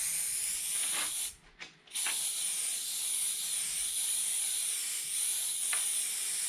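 Spray adhesive hisses from an aerosol can in a steady stream for several seconds, with one brief pause, fairly faint and alone.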